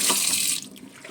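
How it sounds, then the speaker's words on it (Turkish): Running kitchen tap water splashes loudly as a cleaning cloth is rinsed beneath it, strong at first and then dropping to a softer trickle. "Bezimi de yıkayayım."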